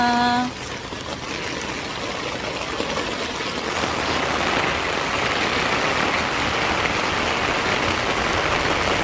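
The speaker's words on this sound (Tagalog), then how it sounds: "Ang lakas ng ulan." Heavy rain pours steadily in a dense, continuous roar, growing a little louder partway through, with no voices.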